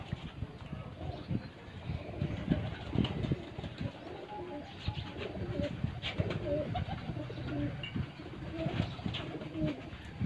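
Racing pigeons coo softly on a rooftop loft, repeated low throaty coos and rustling in a close, busy flock, fairly quiet overall with some faint background voices.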